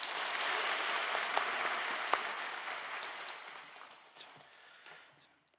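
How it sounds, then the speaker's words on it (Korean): A church congregation at an early-morning service applauds its pastor, a dense, steady wash of clapping from many hands that gradually fades out. "은혜의 말씀을 전해주신 우리 목사님께 감사의 박수 드리겠습니다"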